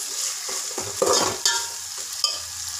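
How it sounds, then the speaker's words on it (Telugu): Raw banana pieces fry in a hot pan with a steady, close sizzling hiss, broken by several sharp scrapes and clatters as the pieces are stirred, with no talking. "ఈలోపు ఈ అరటికాయ కూడా వేగుతుంది బాగా."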